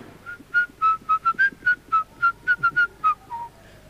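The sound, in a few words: whistled imitation of a mobile phone ringtone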